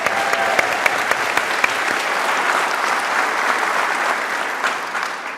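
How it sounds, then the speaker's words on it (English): Audience at a high school commencement ceremony applauding, dense sustained clapping from a large crowd that stays loud and even before easing slightly at the end. "let's give them some round of applause for that"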